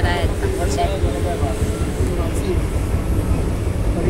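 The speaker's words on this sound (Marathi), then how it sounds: "फायनली बघा आमची ट्रेन चालू झालेली आहे" A passenger train gets moving again after a short halt, giving a steady rumble and rattle, while people talk nearby over the noise.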